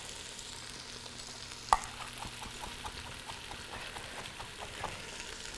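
Peppers frying in a pan give a steady soft sizzle while a utensil stirs and scrapes in a loose rhythm, with one sharper knock near the start.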